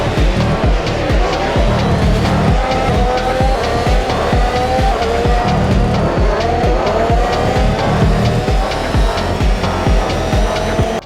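Race cars in a sim racing game roar together through a hairpin, with continuous loud engine drone, shifting revs and tire squeal as cars crowd the inside line.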